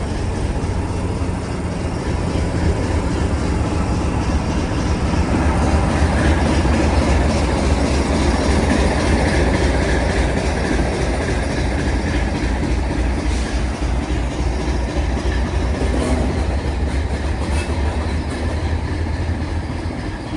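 A train in Northern Ireland pulls away from the platform with a steady, loud rumble and rhythmic clatter of wheels on rails that holds for the whole stretch.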